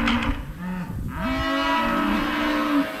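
Cattle moo loudly and close in a pasture, two or three long lowing calls that overlap, with no talk over them.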